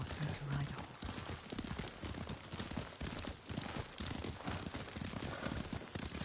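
Horse hooves clip-clopping in a steady, rapid galloping rhythm while riding in the video game Ghost of Tsushima, loud and continuous throughout, with voices talking over it.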